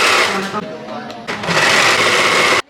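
Sewing machines run loudly and close by in a sewing class where students are making patterns and stitching garments, with a steady whir that briefly dips before resuming.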